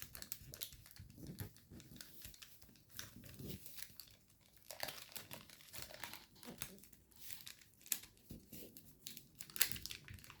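Paper crinkling and rustling as an origami jet is folded, with irregular soft crackles and crisp bursts close by throughout, no speech.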